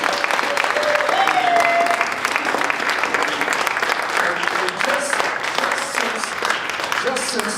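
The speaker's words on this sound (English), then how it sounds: "Give Ray Dean a big round of applause for carrying the torch." An audience at an awards celebration breaks into sustained applause, dense steady clapping filling the room for several seconds with a few voices underneath.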